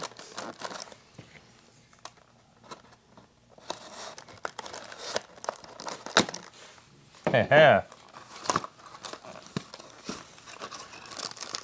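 Crinkling and rustling of wrapping being opened on a Lebkuchen-Schmidt Christmas chest, scattered close crackles and one louder tearing crunch, with people talking in between.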